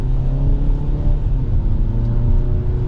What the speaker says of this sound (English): getting back up to speed again, just in the normal mode, you know, giving it quarter throttle